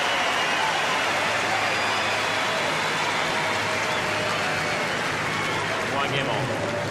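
Steady, dense applause from a tennis crowd at the 2005 Key Biscayne semifinal between Federer and Agassi, cheering Agassi as a continuous loud wash of clapping that holds for several seconds, with a commentator speaking over it.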